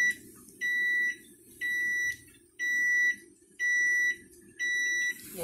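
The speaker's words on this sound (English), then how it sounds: "There goes the timer." An oven kitchen timer beeps as a boxed cake finishes baking, sounding five evenly spaced, steady electronic tones, each about half a second long, clear against quiet kitchen background with no talking.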